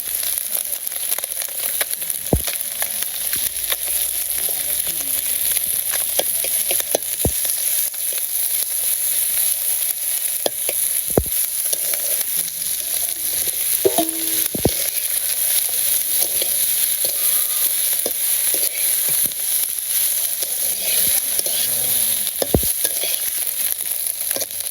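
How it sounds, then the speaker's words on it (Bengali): Onions sizzle and fry in a pan of fish curry in a village kitchen, a steady bright crackling hiss that runs throughout, with occasional clinks and scrapes of stirring. "আমি পেঁয়াজগুলো দিয়ে দিই।"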